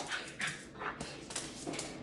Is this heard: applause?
no